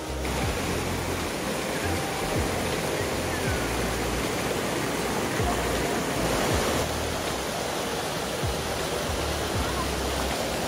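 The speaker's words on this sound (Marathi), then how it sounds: "जसं की पाहू शकता आता हे खळखळणारं पाणी" Stream water after the first monsoon rain in May near a village, a steady loud rushing and gurgling flow that continues unbroken throughout.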